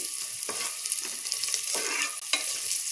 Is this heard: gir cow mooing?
no